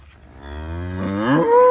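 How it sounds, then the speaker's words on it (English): A single cow moos loudly and close by, a long low call that rises and swells in strength toward the end. "gonna give us another moo"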